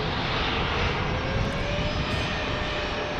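An airliner arriving from San Jose lands at San Diego airport, passing as a loud, dense, steady engine roar close overhead for the whole short stretch, with no voices.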